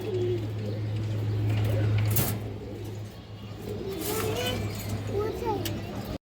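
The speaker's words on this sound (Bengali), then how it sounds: "পাল্লা করা একটা কালো গলা মাদি কবুতর আছে" Soft, low cooing of a black-necked female pigeon repeats under a steady background hum, with faint voices and outdoor noise around it.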